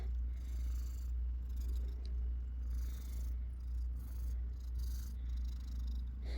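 Close, low rhythmic purring from a cat, a steady rumbling cycle with faint rustling and scraping in the background.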